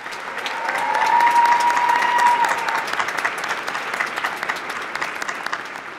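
A large audience at the Oregon Tech 2023 commencement ceremony applauds award recipients with dense, loud clapping that swells in the first seconds, holds steady, then gradually thins out.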